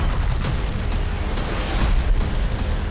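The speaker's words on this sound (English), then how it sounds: "so let's show them some fireworks" Dense, continuous booming and crackling bursts of Fourth of July fireworks, overlapping into a steady roar with sharper pops scattered throughout.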